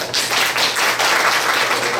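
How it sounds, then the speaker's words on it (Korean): An audience at an amateur orchestra festival press conference claps steadily. The dense, even applause is fairly loud and continues throughout without pause. "여러분 뜨거운 박수"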